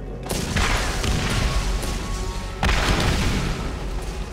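Explosive blasts from a rocket launcher in the video game Borderlands, a sustained loud roar of booming detonations with a fresh heavy burst partway through, dense and continuous.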